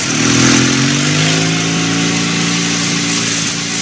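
A motorcycle engine idles and revs steadily nearby, a loud continuous mechanical drone with a low tonal hum, holding fairly constant throughout without speech.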